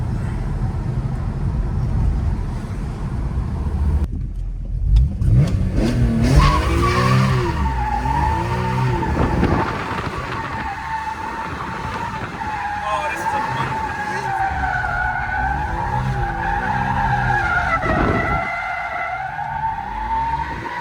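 A BMW E46 M3 with a newly fixed driveshaft and new mounts does donuts, its tires squealing and skidding in long wavering cycles over a loud, steady engine roar.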